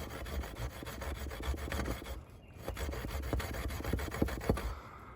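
Serrated spine of a knockoff Rambo 2 survival knife sawing into a live tree branch outdoors, a continuous rough rasping scrape with rapid back-and-forth strokes, close and moderately loud.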